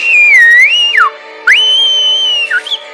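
A person whistles alone, with a bright, wavering tune that slides up and down in long swoops, breaks off briefly near the middle, then carries on with another rising and falling phrase.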